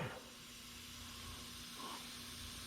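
Pressurized coolant squirts and hisses from a common rail Dodge Cummins diesel engine, a faint steady spray with a brief swelling gush near the end, heard alone without speech.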